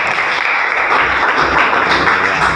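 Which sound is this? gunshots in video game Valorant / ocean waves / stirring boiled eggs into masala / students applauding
students applauding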